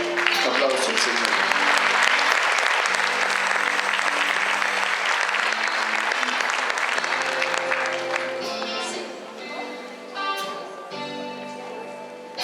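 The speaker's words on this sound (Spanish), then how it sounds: "Un aplauso al Señor." A church congregation at an evening Christian worship gathering bursts into loud, dense applause that holds steady, then thins into scattered claps, while music and a voice carry on beneath it.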